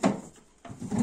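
A drawer of a Maunfeld MFF177NFB refrigerator slides open, giving two brief, soft scraping rumbles separated by a short pause, close and fairly quiet.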